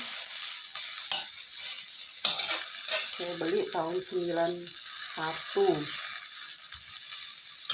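Steady, loud sizzling of chilies frying in a hot wok fills the whole clip, while someone speaks briefly over it.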